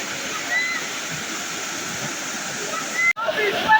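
The Rupshi and Chhagolkanda waterfalls on the Boro Kamaldah trail in Sitakunda pour in a steady, loud, broad roar of falling water, briefly cut off near the end, with voices faintly over it.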